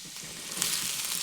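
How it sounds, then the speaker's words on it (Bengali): Chopped onion and carrot fry in a pan for street-style chowmein, giving a steady, close, hissing sizzle with no talking. "তো এরপরে পেঁয়াজ আর গাজরটি কিছুক্ষণ ভেজে নেব।"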